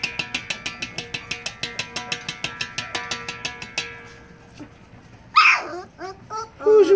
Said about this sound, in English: Who's you barking at?